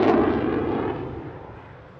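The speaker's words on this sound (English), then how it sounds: "Coming in at low speed now, showing off the F-16's impressive high alpha performance" An F-16 fighter jet passes at low speed during an airshow in Leszno, a loud, broad roaring rush that starts strong and steadily fades over about two seconds with no other sounds.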